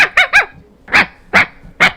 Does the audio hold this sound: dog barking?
yes